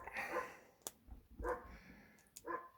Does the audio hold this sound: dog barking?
yes